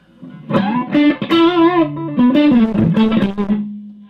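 An electric guitar played through a blues amp with no reverb rings out a short, loud phrase of sustained, slightly overdriven bent notes, dry and up close with no talking.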